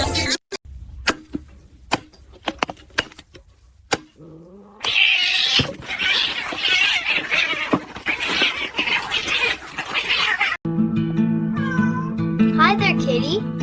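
A fluffy stray kitten meows repeatedly, with several clear, rising cries near the end, amid people talking and laughing, thumps and movement in a room.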